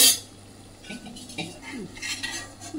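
Bread pieces for halwa being flipped in a frying pan, with a sharp metal clank at the start, then light scrapes and clinks of a utensil against the pan and a faint sizzle.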